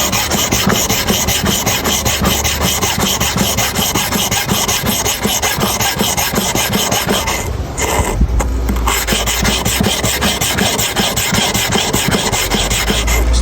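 Clipper blade rubbed back and forth across a sharpening stone in a steady, close rasping scrape that continues with one brief pause midway.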